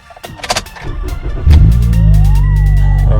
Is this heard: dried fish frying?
no